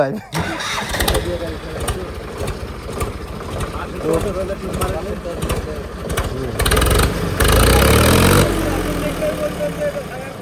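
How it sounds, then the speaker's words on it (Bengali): A Preet 955 tractor engine cranks and catches, then settles into a loud, throbbing diesel run that surges near the end, with people talking over it. "ইঞ্জিনের সাউন্ড ঠিক আছে"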